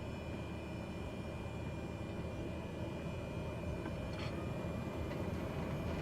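Steady, faint engine drone of an aircraft taxiing in Microsoft Flight Simulator, a continuous low hum with no clear breaks, heard alone.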